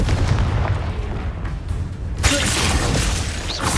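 Confringo fire-spell blasts in Hogwarts Legacy, a sustained roaring burst of dense noise that suddenly swells louder about halfway through and carries on to the end, with no talk.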